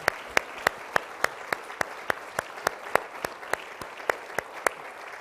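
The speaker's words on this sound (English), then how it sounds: "Let's give them a big round of applause" Church congregation applause during a Pentecostal service, a loose rhythmic clapping with distinct sharp claps at a regular beat over a soft wash of hand noise, continuing for several seconds without speech.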